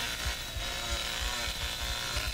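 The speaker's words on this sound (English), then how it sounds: "Let's rev the chainsaw, get a bit of movement speed." Leatherface's chainsaw revs in the Texas Chainsaw Massacre video game, a steady droning engine with repeated low throttle pulses under a continuous mid-level hum, alone and fairly loud.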